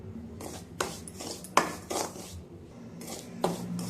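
Upma rava (sooji semolina) roasting in a little oil in a pan over a medium flame, with a spatula scraping and stirring in repeated short strokes, close and fairly quiet.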